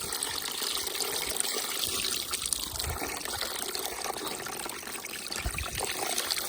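Fertilizer water poured from a garden hose into a center drain, a steady close trickling and splashing flow with no talk.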